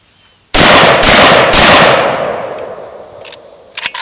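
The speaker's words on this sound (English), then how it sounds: "but you're bump firing it, there's nothing to reduce the cycle rate" A rapid burst of bump-fired gunshots, several very loud close blasts in quick succession that ring out and decay over a couple of seconds, followed by faint mechanical clicks.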